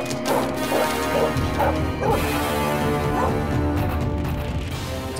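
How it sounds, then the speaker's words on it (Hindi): Several dogs barking repeatedly in a drama scene, loud and close, with crashing sounds and a busy, dense background. "कुत्ते क्यों भौंक रहे हैं?"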